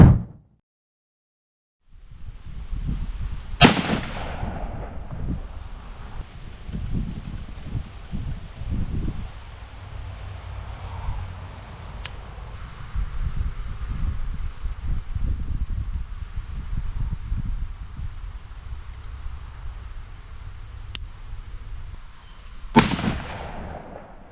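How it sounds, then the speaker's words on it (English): A Savage Axis rifle fires two sharp, loud shots outdoors at a 25-yard range, about twenty seconds apart, with steady wind and rustling filling the gap between them. "I'm shooting at 25 yards, just getting it sighted in"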